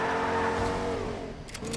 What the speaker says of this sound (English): I heard a car, that was my fault.